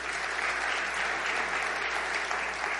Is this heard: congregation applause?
yes